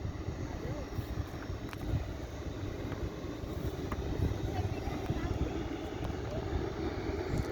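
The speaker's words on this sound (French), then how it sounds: "777 qui va décoller aussi, le Air France" An Air France Boeing 777 airliner spooling up for takeoff at night, a broad steady engine roar heard from a distance, with a person talking over it.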